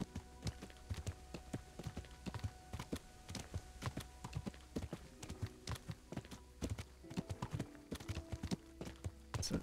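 A horse's hooves clip-clop steadily in Kingdom Come: Deliverance, a quick, close rhythmic series of sharp hoofbeats that continues throughout.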